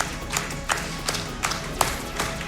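Crowd clapping in the video game Deer Simulator at a final boss fight, a dense ongoing patter with periodic sharper claps popping out in a loose rhythm, fairly loud throughout.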